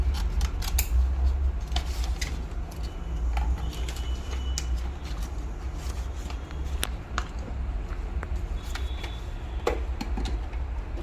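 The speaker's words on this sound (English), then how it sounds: "This is the sterilization reel for packing we are using. At desired dimensions we are cutting it." Scissors snip sterilization reel packing to size in a dental clinic, with repeated sharp close cuts over a steady low hum from the room.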